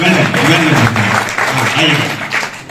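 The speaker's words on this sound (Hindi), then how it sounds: "एक बार जोरदार तालियां सबके लिए" Loud audience applause at a seminar in Rohtak fills the whole stretch as a dense, steady roar of clapping, with voices shouting and talking over it.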